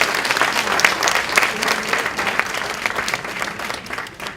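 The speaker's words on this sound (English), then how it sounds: "give another round of applause to" An audience breaks into applause at an honoree celebration event, a dense, fairly loud wash of many hands clapping that carries on steadily with small swells and no speech on top.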